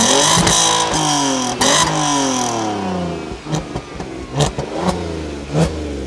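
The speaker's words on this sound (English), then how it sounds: "You guys need to learn how to rev your engines, man." A car engine revs hard up close, climbing through one long sustained rise before dropping into a string of sharp, separate throttle blips, loud and with no one talking.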